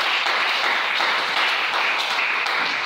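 A church congregation applauds in a steady, dense wash of clapping from many hands, sustained at an even loudness without pause or talking.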